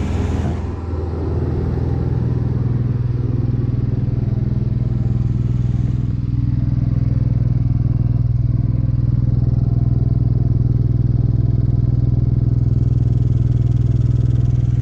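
An Onan RV generator runs close by, a loud, steady low drone with a constant hum and slight mechanical clatter that holds unchanged throughout.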